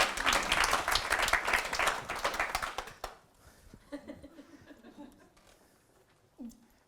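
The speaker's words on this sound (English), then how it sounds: "Give Anna a big round of applause." An audience breaks into loud, dense clapping with a little laughter for about three seconds, then it stops sharply and quiet talk and a chuckle follow.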